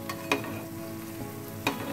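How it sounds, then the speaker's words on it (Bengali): Bread and potato snack with flattened rice frying in a pan, a soft steady sizzle broken by two sharp spatula clinks as it is turned. "উল্টে দেব, আর ভালো করে উল্টে পাল্টে ভেজে নেব।"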